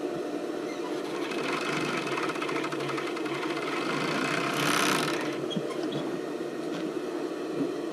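A sewing machine stitches elastic onto a tank top in a steady, continuous run at close range, the motor hum and rapid needle chatter holding level throughout with no one speaking.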